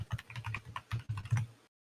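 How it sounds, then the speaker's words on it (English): Computer keyboard typing, a quick close run of crisp key clicks for under two seconds before stopping into silence. "Oh, I hear the keyboard."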